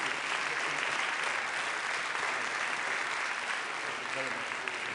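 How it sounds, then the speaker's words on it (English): A large audience applauds a panel at the One Health Summit in Lyon, continuous full clapping at a steady level throughout. "Please join me in applauding this wonderful panel."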